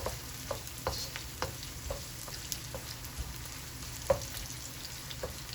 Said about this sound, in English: So I want this to fry out until I'm seeing some brown color.